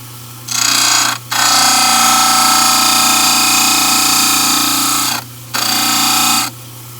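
A dental model trimmer wheel grinds a study model flat, a loud steady abrasive whir over a constant motor hum, cutting out twice briefly as the model is lifted away and pressed back against the wheel.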